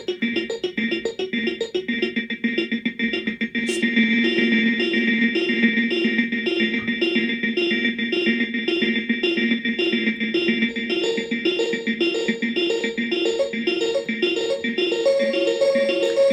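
Sung vocal audio is pitched into a stepped sequence by granular grain players on an ER-301 sound computer, giving a continuous, layered, slightly out-of-tune chorus of processed voice with shimmering, effected overtones throughout.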